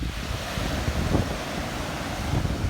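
Small sea waves wash ashore at Amed under steady wind buffeting the microphone, producing a continuous broad roar with faint surges of surf.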